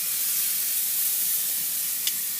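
Skirt steak searing on a Big Green Egg grill gives a loud, steady, close sizzle of dense hissing crackle throughout, with a single sharper pop near the end and no voices.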